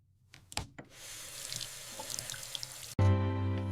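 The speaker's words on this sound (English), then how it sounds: "Wash your hands first." A household water tap runs steadily for hand washing, preceded by a few clicks and handling knocks, before a sustained tonal hum cuts in near the end.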